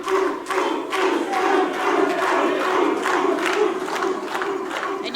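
A pro wrestling crowd at a live showcase event cheering and shouting, with a dense roar of voices and rhythmic chanting bursts, loud and sustained throughout.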